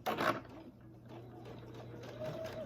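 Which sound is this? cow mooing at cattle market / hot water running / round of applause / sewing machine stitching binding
sewing machine stitching binding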